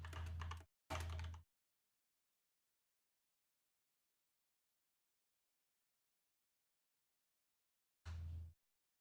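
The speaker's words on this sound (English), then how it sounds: "It's always dangerous when the GM typing." During a tabletop role-playing game session, a game master types on a computer keyboard in short bursts: two quick clusters of keystrokes, a long silence, then one more burst.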